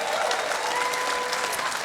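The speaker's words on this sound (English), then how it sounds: "Give him a round of applause." An audience at a live music show applauds loudly and continuously, a dense wash of clapping hands with no pauses.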